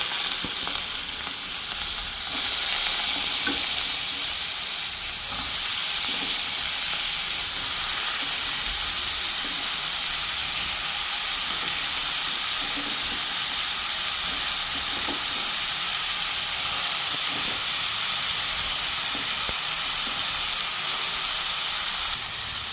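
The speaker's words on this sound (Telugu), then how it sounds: "సో నూనె వేడెక్కింది, దీనిలో ఆలూ వేసుకున్నాం" Potato pieces fry in hot oil with a dense, continuous sizzle and hiss that stays loud and steady throughout, with faint stirring clicks underneath and no talking.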